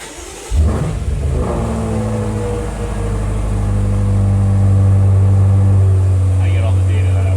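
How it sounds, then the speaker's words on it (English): A 2020 BMW M8 starts up with a sharp crank and catch, then settles into a deep, loud idle that swells as the engine revs, heard close by. "When I fire up the car"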